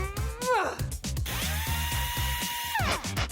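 A power drill whirs while driving screws during furniture building, with rising and falling motor pitch in a sustained run, over rhythmic background music.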